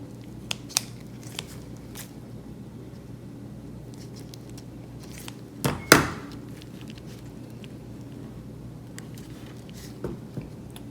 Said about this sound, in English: Be real careful here using these scissors.